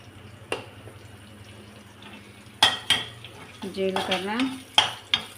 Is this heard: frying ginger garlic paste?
yes